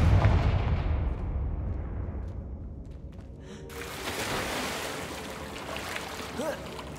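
A Confringo blasting spell is cast in Hogwarts Legacy, producing a loud, booming explosive burst that fades into a long rumble, followed by softer game ambience and a voice in the background.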